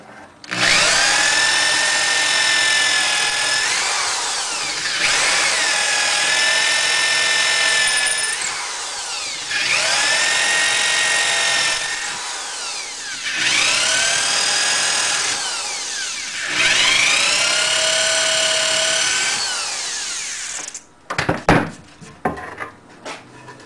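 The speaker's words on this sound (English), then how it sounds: "To save wear on the mortising chisel, remove the material with the drill and 1/4 inch bit." A hand drill with a 1/4 inch bit bores into oak to clear a mortise, giving five long bursts of grinding, whirring cutting, each a few seconds long and separated by brief pauses, close and loud, followed by a few clattering knocks.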